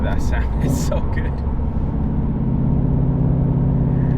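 Interior of a 2016 Shelby GT350 under way, its engine and exhaust holding a steady, loud droning note with a few brief higher clicks and rattles early on.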